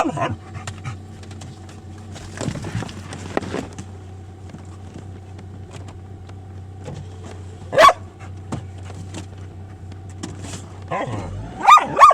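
A dog pants steadily inside a broken-down MG TF sports car, with a faint low engine hum and a couple of brief sharper sounds near the end.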